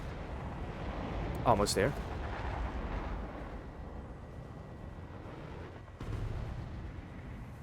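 Aircraft guns fire during a dogfight in a high-tier flight combat video game, a short loud burst over a rumbling engine and wind roar, with a second thump later; someone speaks briefly over the game sound.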